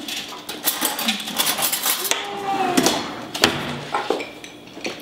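A spoon stirring apricot jam filling in a bowl, giving close clinks and scraping knocks against the bowl in an uneven rhythm.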